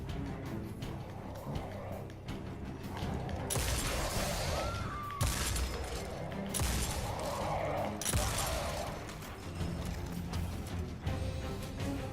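Shotgun blasts ring out in the sci-fi shooter Destiny 2, heavy booming shots spaced a few seconds apart over a dense bed of game music and combat noise.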